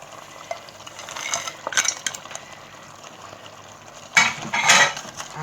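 Vegetables fry in a pot for a goat meat sauce served with fried plantain, giving a soft steady sizzle broken by two louder bursts of spoon clatter and scraping against the pot.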